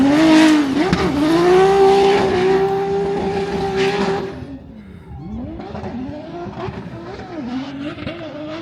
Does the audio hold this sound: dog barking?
no